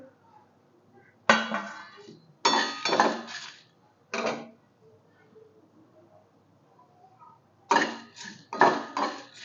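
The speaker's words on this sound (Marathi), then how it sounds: "कोरडे मसाले आधी भाजून घेऊया म्हणजे आपल्याला मिक्सरला लावता येतील" Whole garam masala spices are dry roasted in a pan, heard as a few sharp bursts of clattering and scraping against metal, separated by near-silent pauses.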